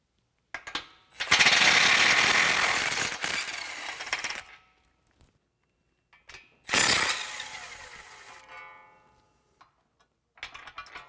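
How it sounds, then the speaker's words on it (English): A ratchet works loose large housing bolts on a vehicle during a bracket installation, making bursts of loud rapid clicking with pauses between, then a final short burst. "We're going to remove these two large housing bolts as well as these two 13mm bolts as well"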